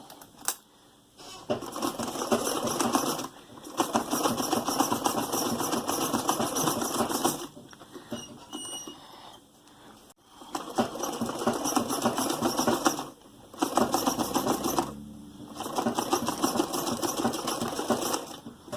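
A sewing machine top stitching a sweatshirt being turned into a tunic top, with long close runs of fast rhythmic stitching broken by short pauses and handling noises.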